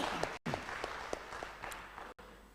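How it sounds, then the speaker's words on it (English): An audience at a product launch event applauds with dense, steady clapping that briefly cuts out twice before carrying on. "A round of applause."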